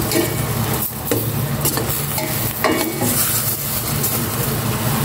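Vegetables for pork afritada sauté in a hot pan, a loud continuous sizzle close by with occasional stirring and scraping against the metal. No one speaks.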